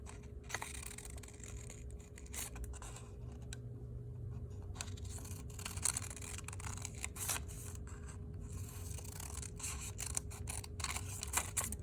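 Scissors snipping through paper for a Waldorf-style paper snowflake, a run of quiet, close, irregular clicks and crisp snips over a faint steady hum, no voices.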